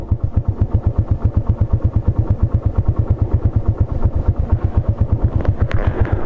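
A motorcycle engine chugs in a steady low, rapid pulse as it labors up a very steep mountain road near Dolores, close and loud throughout, with a brief rattle near the end.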